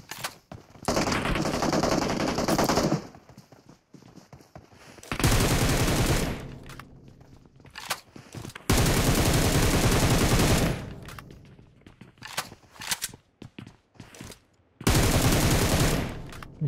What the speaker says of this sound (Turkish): Sistemdeki adama sıkıyorum